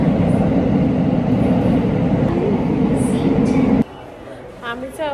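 Interior of a moving train in Japan: a steady loud rumble of wheels and carriage noise fills most of the clip, then drops sharply as the train quiets, with a faint voice and chime afterward.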